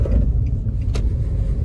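A Nissan Kicks SUV with a 1.6 engine and CVT transmission runs with a steady, low engine and road rumble and a faint click partway through, with no voices.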